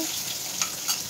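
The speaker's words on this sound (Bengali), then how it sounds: "ডিম ভাজার তেলেতে আমি কিন্তু সয়াবিনটা ভেজে নিতেছি" Soybean chunks fry in oil left over from frying eggs, giving a steady, close sizzle with brief scrapes of stirring and no voices.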